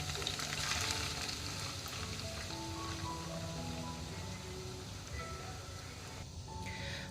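Onions frying steadily in a pan for a kofta tomato sauce, giving a dense, continuous sizzle with soft crackles that holds at an even level from start to finish, close and with no talking.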